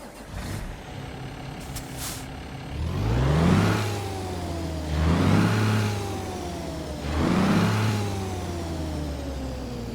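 Straight-piped Cummins Signature 600 engine in a Kenworth W900 in American Truck Simulator, revving up through three rising, throaty pulls with drops between shifts, loud and close with a hiss early on.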